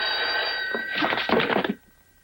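A telephone rings loudly with a steady electronic trill, a second burst of ringing follows, then it stops abruptly, in a tense scene from an action film.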